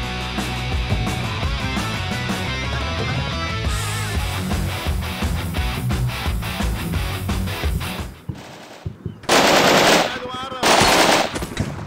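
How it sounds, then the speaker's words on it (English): Machine gun fire in the Combat Mission Shock Force 2 game during a long-range firefight between Syrian defenders and American marines: sustained rattling bursts under a busy battle mix, ending in several sharp, loud automatic volleys. "Thus, the front has evolved into a long-range firefight."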